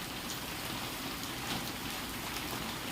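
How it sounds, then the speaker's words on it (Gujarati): Steady, continuous rain falls at night on a Gir cow farm, a dense unbroken hiss of drops on surfaces that stays even throughout, with no voices. "અને વરસાદ એક ધારો વરસી રહ્યો છે"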